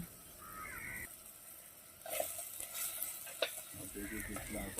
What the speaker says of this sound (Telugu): ఈ ఉల్లిపాయలను కొంతసేపు వేగనిచ్చి మధ్య మధ్యలో అటు ఇటు తిప్పుకుంటూ ఉండాలి